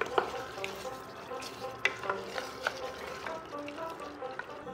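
Mutton curry is stirred with ghee-fried Gobindobhog rice powder in a pot, giving a close, soft sizzle with repeated scraping and clinking strokes of the spoon at an uneven rhythm, with no talk.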